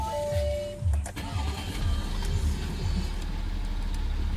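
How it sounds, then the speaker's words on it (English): A 2016 Audi Q7 engine cranks and starts, with a few low chugging bursts settling into a steady running hum, fairly quiet. "so when we start the car here"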